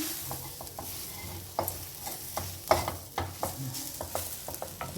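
Drumstick leaves with chillies and spice powder frying in a pan, close and fairly quiet, with crackling sizzle under a string of scraping stirring strokes at an uneven rhythm.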